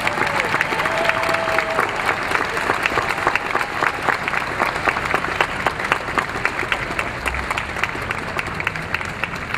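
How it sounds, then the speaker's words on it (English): Big, sustained audience applause at the Emory University School of Law 2011 commencement, a large crowd clapping steadily and loudly for the full stretch with a brief voice or tone audible early on. "Big, robust applause."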